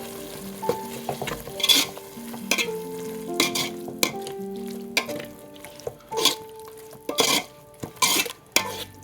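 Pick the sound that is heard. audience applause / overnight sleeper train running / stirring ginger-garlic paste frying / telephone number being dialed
stirring ginger-garlic paste frying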